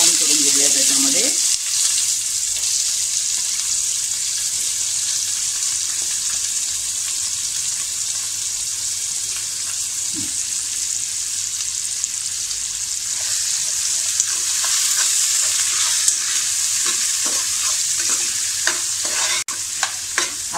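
Onion browns in hot oil with cloves and shahi jeera for egg biryani, a loud steady sizzle broken by scraping stirs in the pan, close and continuous throughout.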